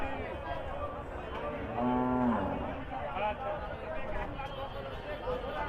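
A pregnant Holstein Friesian cow gives one loud, drawn-out moo at close range amid a noisy cattle-market crowd talking in the background.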